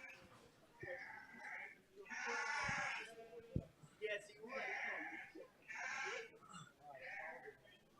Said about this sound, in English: All right, Class 10 hair sheep are entering the ring.